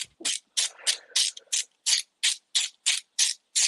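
A Snap-on ratchet wrench clicks during a 3D printer head assembly, giving about eleven sharp, evenly spaced ratcheting bursts close by with no talking.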